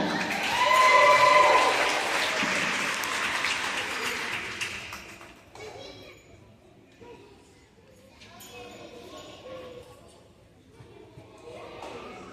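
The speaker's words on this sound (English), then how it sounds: "Let's give them a big round of applause." At a school rewards assembly, a crowd applauds loudly and steadily for about five seconds. The clapping then fades into quieter room murmur and scattered chatter.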